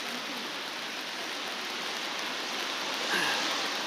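Steady rain falls on a rainy day at the War Memorial in Seoul, a dense, even hiss of drops on hard surfaces, close and continuous, with no voices.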